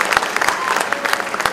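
Applause from a gala dinner crowd, a dense but fairly subdued patter of many hands clapping at once, brief and steady.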